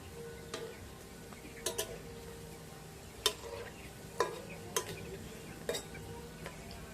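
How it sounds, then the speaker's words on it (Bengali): Dough puris for bhelpuri floating in hot frying oil, a faint low sizzle punctuated by several sharp clicks and taps of a utensil as they are turned, close and unhurried, without speech. "প্রত্যেকটাই কত সুন্দর ভেসে তেলের উপর উঠে গেছে দেখুন তো এবার আমি উল্টে নেব"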